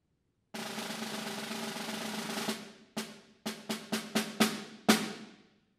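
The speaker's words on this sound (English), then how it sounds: "32nd note rolls, strokes for these rolls." A snare drum plays a slower etude passage using 32nd-note rolls, opening with a long, dense sustained roll and then moving into a series of short rolls and sharp accented strokes, close and loud with no talking.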